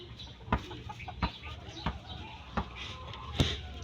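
Chickens cluck in short bursts, with several sharp, evenly spaced taps or knocks over a steady background murmur.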